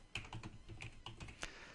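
Someone types on a computer keyboard while entering a spreadsheet note. Quick, close, quiet keystrokes come in a brief irregular burst with nothing else audible.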